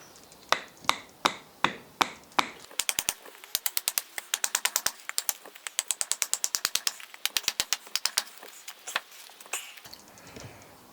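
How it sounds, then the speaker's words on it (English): A hammer taps nails out of a part of an antique oak dining table, the sound a long run of sharp, close knocks, slow and evenly spaced at first, then quick bursts of rapid taps. "So the next step for me is to tap these nails out if I can."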